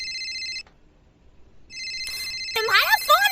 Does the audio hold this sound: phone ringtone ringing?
yes